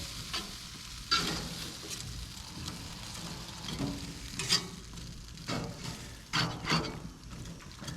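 French fries sizzling on a barbecue grill, a soft continuous crackle with brief scraping stirs and turns now and then, fairly quiet and without talk.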